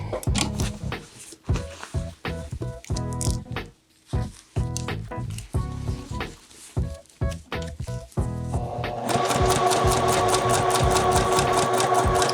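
A sewing machine stitching the hem corner of a jacket facing, close and loud, with short start-stop bursts and pauses as the fabric is pivoted, then a steady continuous run of stitching at the end.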